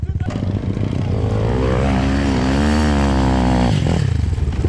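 A Chinese enduro motorcycle engine drones loudly and steadily while being ridden downhill, its tone rising and holding with a strong harmonic whine before dropping off near the end, close to the rider.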